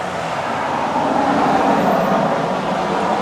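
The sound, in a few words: truck driving by on the road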